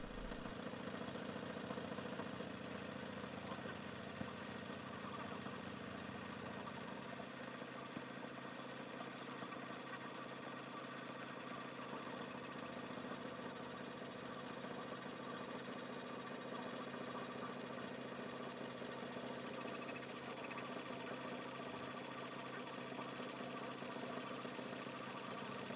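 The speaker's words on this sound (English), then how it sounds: "Put your hoop back on your machine and stitch the very last step of the design." Embroidery machine stitching the final outline of an in-the-hoop snap card holder design, a faint steady mechanical hum and rapid stitching rattle running continuously, alone without talk.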